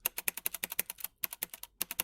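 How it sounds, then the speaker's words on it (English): Rapid typing on a Logitech G610 mechanical keyboard with Cherry Red linear switches, a dense run of sharp, rattly keystrokes with a brief pause midway, close and fairly loud, with no talking. "it is rattly. It is, quite frankly, your typical keyboard sound."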